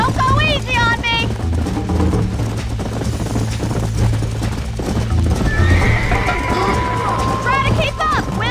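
Galloping horses in the video game Red Dead Redemption, loud rapid hoofbeats throughout with whinnies near the start and end, a voiced character shouting over the race.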